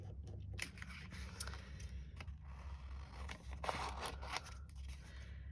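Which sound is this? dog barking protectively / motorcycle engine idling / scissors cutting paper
scissors cutting paper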